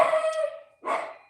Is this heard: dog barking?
yes